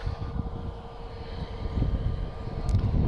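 EasyJet Airbus A321neo airliner departing Lisbon Airport, a steady low jet engine roar that swells gradually toward the end, heard at moderate distance with no voices.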